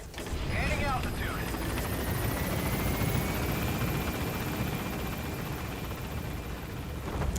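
A helicopter lifts off and gains altitude in the video game Metal Gear Solid V, a continuous rotor and engine rumble filling the whole clip while game voices talk over it.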